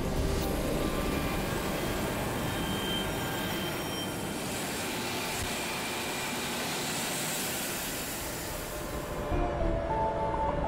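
An air ambulance helicopter comes in to land, its rotor and engine roar steady, loud and close throughout with broadband wash.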